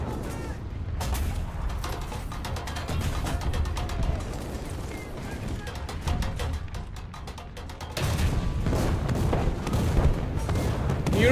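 Tank cannons fire repeatedly in War Thunder: heavy, booming blasts sound amid a constant, dense rumble of battle noise, and a sudden louder surge comes near the end.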